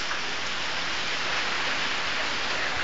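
Heavy typhoon rain pours without a break, a dense, even hiss of drops drumming on surfaces close by, loud and steady with no voices.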